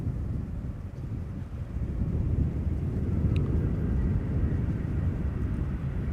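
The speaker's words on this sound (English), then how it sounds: "the E2 Embraer 195, arriving from Munich, KLM flight 1792" A KLM Embraer E195-E2 airliner arriving at Amsterdam Schiphol from Munich gives a steady, low jet roar that swells gradually, heard from a distance with wind noise on the microphone.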